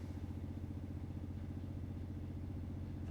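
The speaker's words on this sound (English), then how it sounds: "If you put it in reverse, foot on the brake, give it a little gas, watch the RPMs go up, about 2 grand." A Ford F150 pickup engine, 2009–2020 model with a 6R80 transmission, held in gear on the brake and raised to about 2000 RPM, giving a steady, close, even drone with low rumble and no talk.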